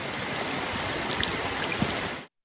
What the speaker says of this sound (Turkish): Gece boyu devam eden yağış nedeniyle dere suları yükseldi.